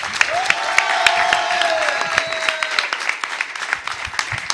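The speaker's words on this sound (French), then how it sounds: "je veux un tonnerre d'applaudissements pour Selzar et ses layouts." An audience applauds for the technical team at the close of a French gaming event, with steady clapping filling the space and a faint tonal whine running through it, without talk.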